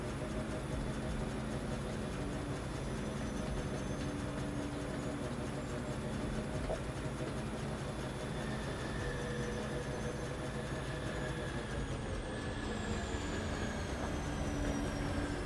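A train rolls through a factory in the video game Foundry with a continuous rumbling rail drone. Layered tonal hums and a rising squeal come in near the end, steady and close throughout with no talk.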